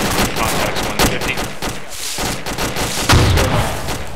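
Dense gunfire in the combat game ArmA 2, with rapid overlapping shots and bursts crackling continuously and loudly throughout, a heavier boom near the end.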